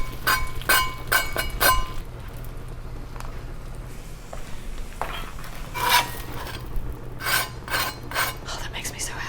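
Metal spatula scraping and pressing a buttered Cuban sandwich on a griddle, a run of sharp, rhythmic scrapes and clanks close by, pausing in the middle and then returning in bursts over a low hum.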